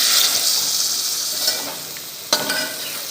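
Liver (kaleji) fries in a pan with a steady, bright sizzle and hiss, close up, with a single sharp clink of a utensil partway through and no talking.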